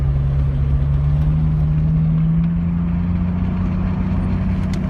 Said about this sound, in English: no drone inside the vehicle, just a nice throaty sound